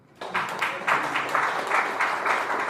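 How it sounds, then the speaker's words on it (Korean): A hall audience at a Korean National Assembly forum breaks into sudden applause, steady and fairly loud, with rhythmic clapping that builds slightly and carries on for a few seconds. "우리 잠도 깰 겸 박수 한번 쳐볼까요?"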